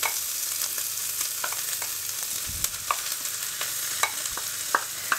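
Continuous oily sizzle of pounded tamarind being stir-fried in a pan for chili tamarind dip, with intermittent scraping clicks from stirring, close and steady without talk.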